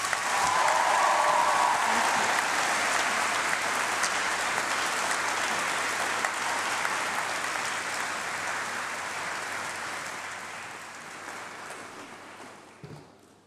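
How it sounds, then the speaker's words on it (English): A large graduation ceremony audience applauds after a speech, dense sustained clapping that starts loud and slowly tapers over about thirteen seconds before fading out. "So I think she deserves another round of applause."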